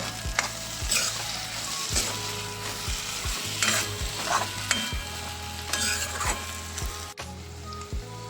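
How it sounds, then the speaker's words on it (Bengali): Chopped green chilies get stirred into mashed dried loitta fish frying in a pan, a soft continuous sizzle with a regular run of spoon scrapes about once a second, close and moderately quiet, with no voices. "কাঁচা লঙ্কা কুচি করে রেখেছিলাম সেটা দিয়ে দেব তিন চারটে ভালো করে এবার নেড়ে দেব"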